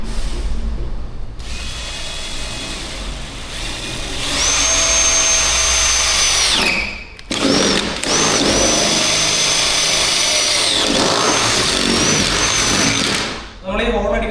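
A power drill bores holes into a Toyota Hilux body for a roll bar mount, whining loud and close in two long runs with a brief pause between them, while someone talks throughout.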